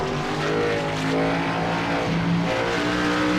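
Dirt-track race car engine in the iRacing sim, onboard, roaring loud and continuous as the driver pedals the throttle, with rising and falling revs through the turns.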